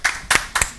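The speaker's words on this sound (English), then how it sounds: "it would be appreciated if men applauded to that" Short bursts of audience clapping at a panel discussion, three or four brief rounds of hands clapping with gaps between them, fairly close and thin rather than a full ovation.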